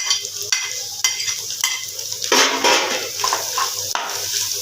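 Keema mixture with chopped green onions stirred in a sizzling pan, a steady frying hiss broken by repeated scrapes and clinks of a spoon against the pan, with no voices.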